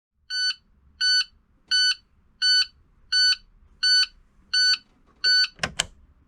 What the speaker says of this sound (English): If the headlights are left on with the ignition off, an audible alert will sound.